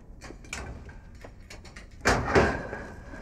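A door is opened in a quiet room, a soft click and shuffle followed by a louder bang of the door swinging about two seconds in, with faint clicks beforehand and no talk.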